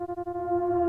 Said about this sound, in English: LFO3 increasing based on a sawtooth shape the density, so you have a lot of grains going out very quickly but spaced evenly